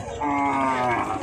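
A cow at a busy Eid sacrifice cattle market gives one loud, close, drawn-out moo with no talk over it.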